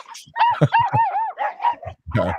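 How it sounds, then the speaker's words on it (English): Dogs bark loudly and close by in a quick series of sharp barks and yips with short pauses between them. "I'm just by barking dogs"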